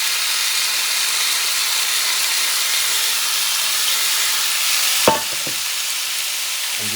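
Thin smashed plantains frying in a hot pan with leftover oil for a Puerto Rican jibarito: a loud, steady sizzling hiss throughout, interrupted near the end by a brief clatter of handling.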